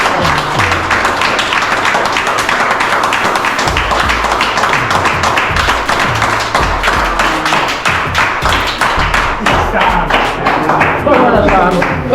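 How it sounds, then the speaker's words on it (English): Audience applause at a fundraising event in Jamaica, loud dense clapping with sharp individual claps and thumps filling the whole stretch, a voice briefly audible beneath the clapping. "So boy, we really have to give them a round of applause."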